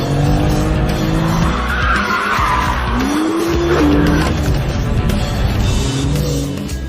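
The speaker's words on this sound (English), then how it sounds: "The BMW M2." A BMW M2 driven hard on a race track, its engine roaring loudly and close while the tires squeal and skid in long continuous screeches, with no voices.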